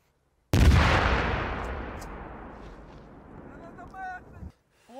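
One heavy gunshot from a Ukrainian military drill cracks suddenly and loud, then rolls into a long decaying echo over several seconds before a brief shouted voice cuts in near the end.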